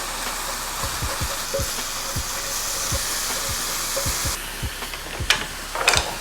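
Shaved ribeye steak sizzling in a hot pan, a dense steady hiss with repeated short scraping and tapping knocks from stirring, loud and close throughout.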